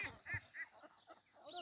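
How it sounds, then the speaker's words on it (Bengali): Hill ducks on a farm of about 300 birds in Longadu, Rangamati, give several short, nasal honking calls in quick, uneven succession, fairly faint against a quiet farmyard background. "আপনারা কতগুলো পাহাড়ি হাঁস দেখিতেছেন।"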